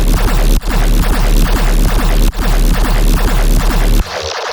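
Short, punchy sub bass in a tearout riddim dubstep pattern, its fast-attack LFO chopping the low end into quick throbbing stabs, loud and continuous with brief drops before cutting out near the end.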